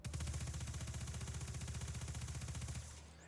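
A Recluse submachine gun fires a steady rapid automatic burst in Destiny, with evenly spaced shots rattling for nearly three seconds before stopping, fairly quiet and with no talk.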